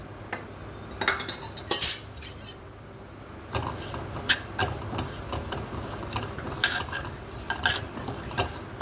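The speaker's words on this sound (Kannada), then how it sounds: "ಇವಾಗ ನಾನು ಮೆಣಸು ಹಾಕ್ತಾಯಿದ್ದೀನಿ, ಅದಕ್ಕೆ ಮತ್ತು ಜೀರಿಗೆ ಒಟ್ಟಿಗೆ ಹುರಿತಾ ಇರೋದು." Pepper and cumin dry-roasting in a pan without oil, with a spoon scraping and clinking against the metal in irregular bursts over a low background hum. No one speaks.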